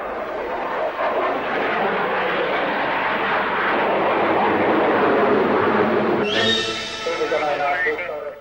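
A single aircraft performs an air display, its broad engine roar steady and loud throughout, then a brighter, harsher jet tone cuts in near the end as it passes close.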